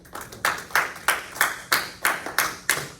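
Hands clap in a steady rhythm of about nine sharp, evenly spaced claps, fairly close and alone, in a math class setting.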